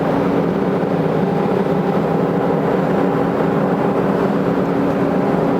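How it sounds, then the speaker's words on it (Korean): A forklift diesel engine runs steadily at raised RPM during forced DPF regeneration, a continuous droning hum with a steady tone that holds throughout, close and loud, with no talk. "자기가 스스로 엔진 RPM을 올려서 강제 실행을 하고 있습니다"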